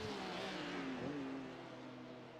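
Porsche race car engines in a sim racing game, a sustained whining drone that rises in pitch, then eases and fades slightly toward the end, with no talk over it.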